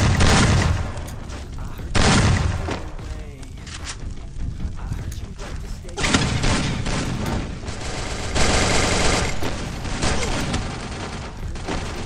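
Gunfire in a video game comes in sharp bursts and loud volleys mixed with booms and other game sounds, with a voice at times over the shooting.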